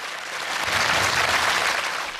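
Studio audience and two game show contestants applauding on a quiz show set, a dense burst of clapping rising and holding briefly with no talk.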